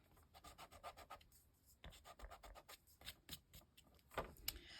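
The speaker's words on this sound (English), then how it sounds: "so I'll get my sand eraser." A sand eraser scrubs ink off a paper card in quick, short back-and-forth strokes, a quiet, close, raspy rubbing that comes in bursts with brief pauses.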